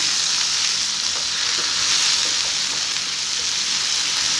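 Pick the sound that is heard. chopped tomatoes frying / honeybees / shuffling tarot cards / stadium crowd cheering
chopped tomatoes frying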